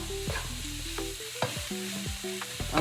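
A meatless mixture stirred and browned in a pan, with continuous sizzling under scraping, clanking spoon strokes against the pan, close and moderately loud, with no talk.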